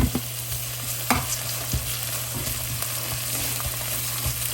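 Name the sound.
stir-frying chili and minced ginger in oil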